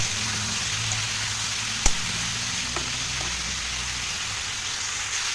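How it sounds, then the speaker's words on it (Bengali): Mixed vegetables with a little turmeric frying in a pan for Bengali shukto, giving a steady, even sizzle throughout with one sharp utensil knock partway and a couple of faint taps. "তো ভালো করে এবার এই সবজিগুলো ভেজে নেব।"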